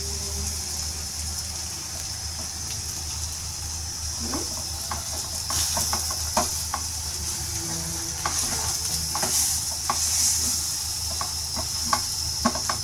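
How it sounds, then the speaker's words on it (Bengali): Potatoes mashed together with onion for Bengali aloo bhorta, with soft intermittent squishing and clicking strokes over a steady background hiss. "এটা দিয়ে ম্যাশ করো একবারে পেঁয়াজের সাথে"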